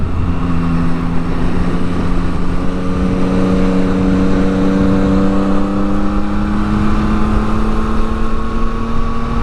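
A Yamaha MT-09 motorcycle engine drones loud and steady while riding, its pitch rising gradually as the bike accelerates, with wind rush underneath.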